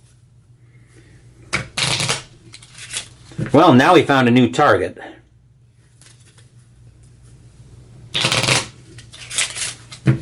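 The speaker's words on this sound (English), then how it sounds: "We'll give the villain deck a quick shuffle." A villain deck of game cards is shuffled during a Sentinels of the Multiverse tabletop session: two quick riffle bursts early, someone speaking briefly in between, then two more riffles near the end.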